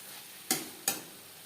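Crushed garlic is stirred into spices frying in a pan for a fish-roe chorchori, giving two quick, close scraping sweeps that flare over a faint ongoing sizzle, with no speech.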